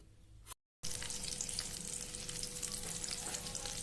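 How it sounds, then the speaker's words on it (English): Marinated brinjal pieces frying in hot oil give a steady, close crackling sizzle after a brief silent break at the start. "our marinated brinjal pieces are frying in the oil"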